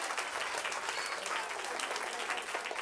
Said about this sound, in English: Clap loud for Amber.